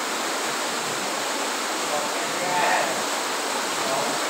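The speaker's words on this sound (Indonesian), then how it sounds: "Airnya parah sekali nih, sampai seperti debit sungai" Heavy floodwater rushing like a river through a village in Brebes, Indonesia, a steady loud broadband roar throughout with no pauses.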